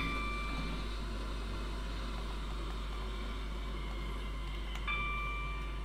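A fast train running in the Roblox railway game Stepford County Railway: a steady low engine drone with a faint hum and rumble underneath, no voices.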